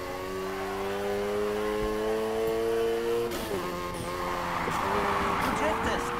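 Game car in Need for Speed Heat, driven at full throttle into a drift: a loud, steady engine drone with rising harmonic tones, then a rougher, noisier stretch like tire scrub. A voice speaks over it.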